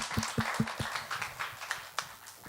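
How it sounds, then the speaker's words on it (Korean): A church congregation at a young adults' Sunday worship service gives faint, scattered applause, loose claps pattering unevenly and fading rather than building into a loud ovation. "우리 다시 한번 뜨거운 축하의 박수 부탁드립니다"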